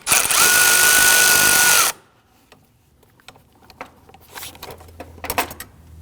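A power tool with a long extension and 8mm socket loosens a bolt on a 2009-2017 Volvo XC60 3.2L L6, a loud, steady two-second whir that stops abruptly and gives way to faint clicks and handling sounds.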